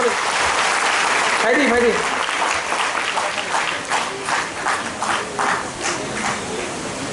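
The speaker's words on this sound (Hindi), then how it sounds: "ताली मारो, ताली मारो" A crowd clapping in irregular applause, the claps coming in distinct bursts that grow more spaced toward the end, with a person talking loudly over it.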